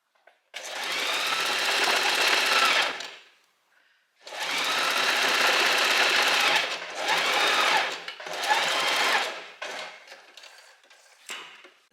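Close, loud whirring of a sewing machine stitching elastic onto a dress, in two long runs followed by several shorter bursts and stops, with no talking.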